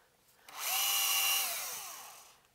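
A power drill spins up to start a hole in a metal amplifier chassis, one steady whine lasting under two seconds that rises in and then winds down, fairly quiet and alone.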